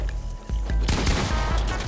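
Shotgun fire in a video game, a loud, close blast that rises sharply after a few lighter gun pops and then rolls on as dense, sustained gunfire.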